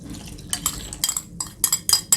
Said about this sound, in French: je la mélange avec le reste des ingrédients.